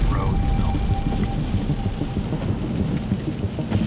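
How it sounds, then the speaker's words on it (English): A thunderstorm rolls over the Sea of Galilee near Capernaum, dense rain and wind roaring loudly and continuously close by, with a low rumbling undertone and no clear voices. "we don't have that many storms with those gushes and winds"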